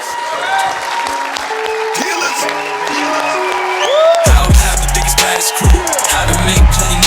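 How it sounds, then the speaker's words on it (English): An audience stands to applaud and cheer a speaker at a sales event, with crowd noise mixed with loud music, bass thumps and a voice over the top throughout. "Stand up and give my man LA Dub a round of applause."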